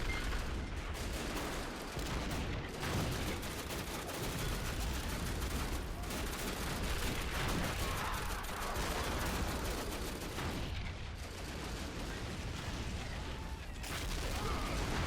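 Dense, continuous rattle of musket volleys and booming artillery in a Civil War battle video game set during a siege of Washington, D.C., with overlapping cracks and distant thuds forming a steady roar throughout.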